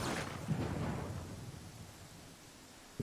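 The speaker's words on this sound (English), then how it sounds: "We might have to camp to see this storm out." A thunderstorm with rain in the fantasy role-playing game Pathfinder Kingmaker: a deep rolling rumble of thunder fades slowly under a steady wash of rainfall, loud at first and then settling.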